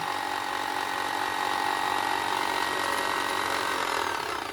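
A sewing machine bobbin winder spins thread onto a bobbin, giving a steady, close mechanical whir with a faint ratcheting texture that holds at an even level throughout.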